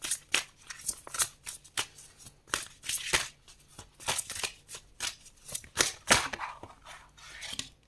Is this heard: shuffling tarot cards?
yes